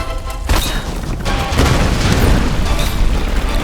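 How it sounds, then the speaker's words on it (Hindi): Explosions go off in the video game Tomb Raider 2013, a dense run of loud, rumbling blasts and crashes that rolls on without pause. "जिस तरह से ब्लास्ट हो रहा है ना"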